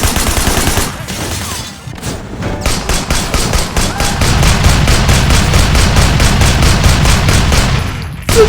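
Rapid, continuous automatic gunfire rattles loudly for several seconds with dense bursts in the video game Sleeping Dogs, with a brief lull near the start.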